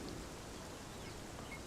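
Rain falls in a video game as a steady, even hiss that fills the whole stretch at moderate loudness, with no voices over it.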